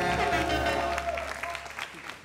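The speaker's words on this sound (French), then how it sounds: "Applaudissez pour Bolo." Audience applause at a live French entertainment show, a loud, steady wash of clapping close by that slowly thins out, with some voices mixed in.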